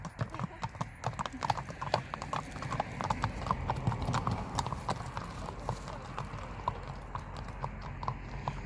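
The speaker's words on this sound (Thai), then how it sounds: "ม้าสวยมากเลยนะคะ" A horse walks through the woods, its hooves clip-clopping in an even, steady rhythm at close range, with faint voices murmuring in the background.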